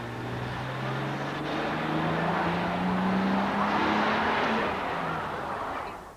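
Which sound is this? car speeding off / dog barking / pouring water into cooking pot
car speeding off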